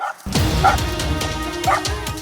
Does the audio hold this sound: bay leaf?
no